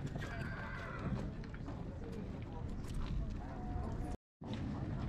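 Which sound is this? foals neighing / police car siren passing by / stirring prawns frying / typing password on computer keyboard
foals neighing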